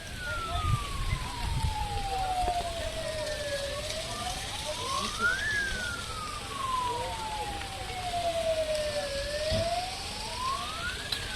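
A fire engine siren at a wheat field fire wails, sweeping slowly up and down in long rising and falling cycles, steady and fairly loud over a constant background rumble of outdoor noise.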